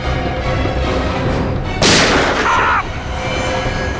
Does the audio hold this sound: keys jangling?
no